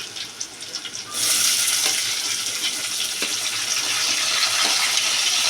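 Finely chopped onion drops into hot oil for a biryani gravy and sizzles loudly and steadily right up close after a quieter opening moment.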